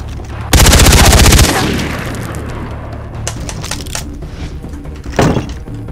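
Gunfire in the Far Cry 3 video game: a loud, dense burst of rapid automatic shots opens the clip, followed by a few scattered sharp cracks and impacts as the noise trails off.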